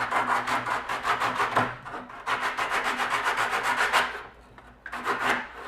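Rhythmic rasping strokes of sandpaper wrapped around a wooden block rounding over the corners of thin walnut and oak coasters, close and steady, with a brief pause midway and another near the end.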